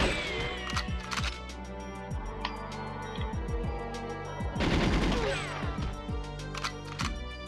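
Rapid gunfire from enemy guards in GoldenEye 007 on the Nintendo 64, bursts of sharp automatic shots mixed with single cracks and clattering impacts, loud and dense throughout with a heavier flurry midway.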